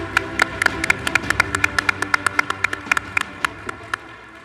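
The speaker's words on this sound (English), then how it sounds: "One more clapping, please." Audience applause at an awards ceremony: a run of about twenty crisp, evenly spaced claps stands out close by over a softer bed of crowd clapping, slowing and thinning toward the end.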